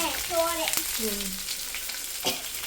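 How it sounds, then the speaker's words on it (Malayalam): Food sizzles in a hot pan while a utensil scrapes and stirs. A brief vocal sound is heard at the start. "ഇനി ഇത് ഇളക്കി കൊടുക്കണം"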